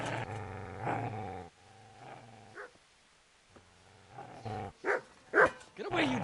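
A dog growls and snarls at the player in the medieval game Kingdom Come: Deliverance, with low rumbling growls broken by sharper yelps and barks toward the end, fairly close and loud.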